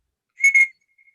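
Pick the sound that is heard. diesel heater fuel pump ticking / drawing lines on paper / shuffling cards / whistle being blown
whistle being blown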